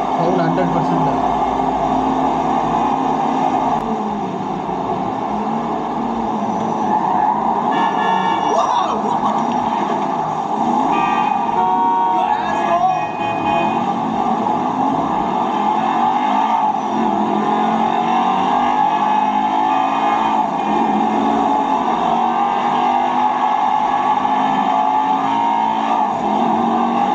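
A car racing video game plays loudly through the built-in speakers of an Acer ED240Q 23.6-inch curved gaming monitor, with a continuous engine drone whose revs rise and fall throughout.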